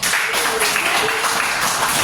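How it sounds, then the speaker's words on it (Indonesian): Applause in a classroom during a biology lesson, a steady wash of many hands clapping together at close range for about two seconds, with faint voices mixed in underneath. "tepuk tangan buat Timothy"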